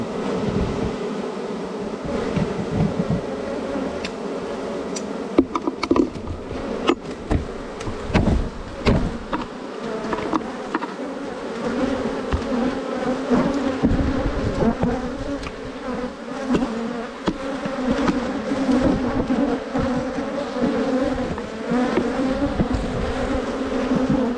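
Honeybees swarm around an open, very active hive during a spring honey inspection. A dense, continuous buzzing stays loud and close throughout, with occasional bumps and knocks from handling the frames.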